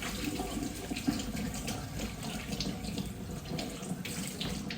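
Water runs steadily from a tap into a sink, a continuous hot-water stream that stays fairly close and even throughout, alone with no talking.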